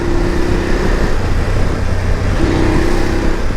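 BMW F850 GS adventure motorcycle engine idling and humming in city traffic, a loud steady close drone with a faint tonal whine and surrounding road noise.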